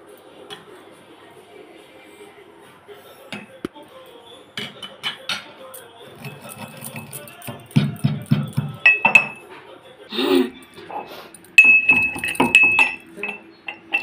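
Roasted mustard seeds pounded in a dried stone mortar for a potato and avakaya pickle, heard as close, uneven knocks and gritty clinks that grow heavier and denser toward the end, with a few faint voices in the background.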